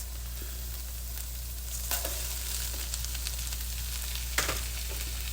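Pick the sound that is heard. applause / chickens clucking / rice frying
rice frying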